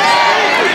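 A live crowd at a Capital City Wrestling show reacting in a loud, continuous wash of voices and shouting, filling the whole moment without a break.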